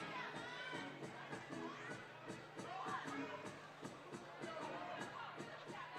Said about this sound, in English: MC David getting the crowd hype.